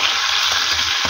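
Pork steak frying in a pan with its marinade poured in, a loud dense sizzle with faint scraping, steady and close for about a second.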